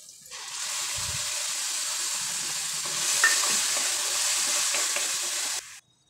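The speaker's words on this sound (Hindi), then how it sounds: "अब इस पे मैं टमाटर डाल दूँगी।" Browned masala frying in separated oil in a Punjabi home kitchen as tomatoes are added, giving a steady close sizzle that swells briefly midway and then settles, with no talking.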